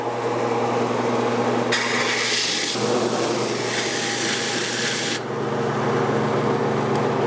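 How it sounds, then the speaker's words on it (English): A large flat sander grinding steadily against a metal turbo manifold, with a broad rough rasp that starts partway through, holds for several seconds, then cuts back to a lower drone. "It's very flat and it does a very good job on sanding these manifolds"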